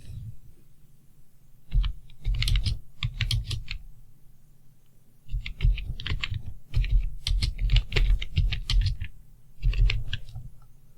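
Rapid clicking keystrokes on a computer keyboard at a PC, coming in close bursts separated by short pauses, with a low hum underneath.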